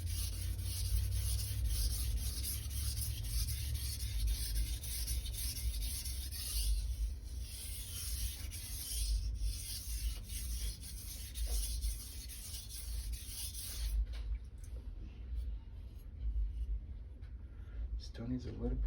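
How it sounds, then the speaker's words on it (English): A 165mm Santoku knife is sharpened on a Chosera/Naniwa whetstone (800/3000 grit), giving a steady, continuous rubbing and scraping of steel on wet stone that ends at about fourteen seconds, with a voice talking over it. "Always keep in mind that you're only sharpening where your fingers are touching"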